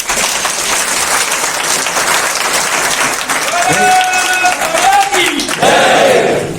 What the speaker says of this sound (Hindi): मुफ्त में जिसने लगाए, जरा मोदी जी के लिए ताली बजा दें।